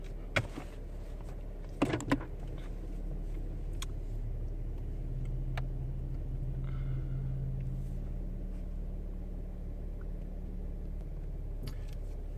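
A 2017–18 Chevy Camaro Fifty idles low and steady while backing slowly out of a driveway, with a couple of sharp clicks and knocks near the start.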